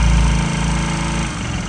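A motorcycle engine runs close and loud with a steady, rumbling pulse whose tone shifts slightly and eases off a little toward the end.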